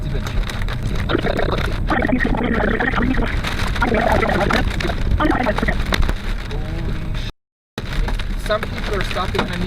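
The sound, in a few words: hail hitting the car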